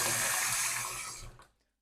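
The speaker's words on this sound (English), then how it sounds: "I'm going to fill the sink up, 2/3 with cold water." Cold water gushes steadily from a tap into a kitchen sink, a loud broadband rush that fades out as the flow is shut off near the end.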